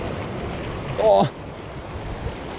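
Ocean swell surging against rocks near a gap at low tide, a constant rushing wash of surf with wind buffeting the microphone and a brief voice midway.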